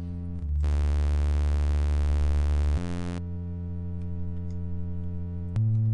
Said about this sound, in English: kind of smooth bass with a triangle